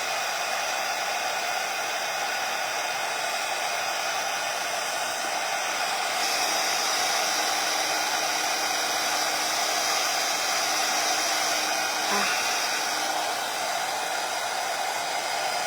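A hair dryer blows continuously up close while adhering metallic foil to a mannequin bust, a steady loud hiss and whir with a slight shift in pitch partway through.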